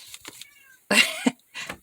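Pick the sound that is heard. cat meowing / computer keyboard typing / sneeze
cat meowing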